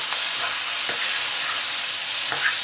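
Onions and garlic sautéing in a pan for sweet and spicy king prawns, a loud, dense, continuous sizzle with a few faint utensil scrapes underneath, close up.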